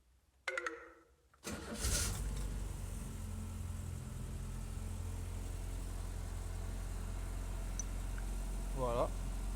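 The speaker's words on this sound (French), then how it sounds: "je vais mettre contact, démarreur. Et ça doit démarrer tout seul." A Renault Estafette Alouette R2136A gendarmerie van is started with ignition and starter: clicks, a brief crank, then the engine catches and settles into a steady close idle, with a short voice and a squeak near the end.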